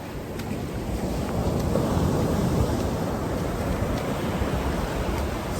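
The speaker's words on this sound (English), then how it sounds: "See how those waves are crashing?" Ocean waves crashing on a beach, a steady broad roar of surf with wind noise, close and fairly loud throughout, no voices.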